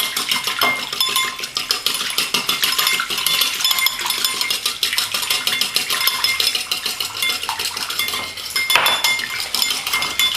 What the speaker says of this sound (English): Whisk in the rest of this 1/4 cup of oil that I have here